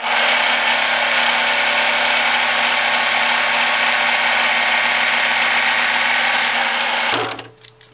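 A serger sewing machine stitches the last seams of a fabric rice heating pad, running loud and steady for about seven seconds before winding down and stopping.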